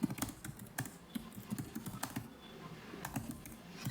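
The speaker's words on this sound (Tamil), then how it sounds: "இந்த எலமெண்ட்குள்ளே சம்திங் நான் டைப் பண்ணுறேன்" Keys clatter on a computer keyboard while someone types text into an HTML element, producing irregular quick taps in short bursts at close range with no voices.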